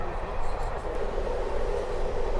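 Steady rumble and rattle of a steam train running along the rails on a British heritage ride, heard from inside a carriage as a continuous, fairly loud roll without a break.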